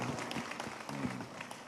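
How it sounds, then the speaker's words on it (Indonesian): Audience applause at a gathering with Gus Miftah, a fairly faint, short burst of scattered clapping from a crowd. "Tepuk tangan untuk Pak Doni."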